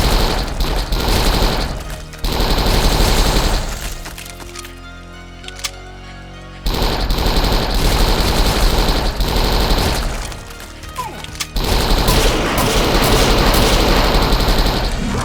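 Video game gunfire plays in dense rapid bursts, loud and close, with automatic fire and impacts in several stretches broken by brief quieter gaps.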